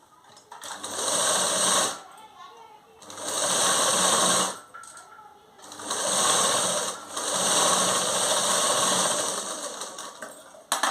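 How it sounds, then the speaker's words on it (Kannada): A sewing machine stitches blouse fabric in three long, loud, steady runs of rapid mechanical chatter, separated by short pauses, with a voice speaking in the gaps. "ಇವಾಗ ಒಂದು ಸ್ಟಿಚ್ಚನ್ನು ಹಾಕೊಂಬಂದ್ಬಿಡೋಣ"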